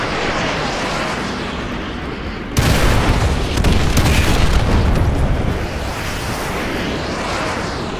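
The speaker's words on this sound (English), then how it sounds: "Fire mission received. Artillery inbound." Artillery strikes land in Call of Duty Modern Warfare 2 Remastered amid heavy combat, with a sudden loud roaring blast that surges and rumbles for a few seconds over constant battlefield noise, then settles back.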